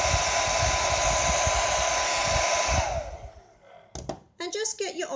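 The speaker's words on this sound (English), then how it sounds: "Grab your hairdryer just one last time." A hair dryer blows steadily and loudly for about three seconds, heating nail wraps, then cuts off, leaving quiet room sound and a brief voice.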